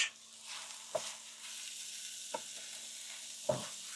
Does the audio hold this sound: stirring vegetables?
yes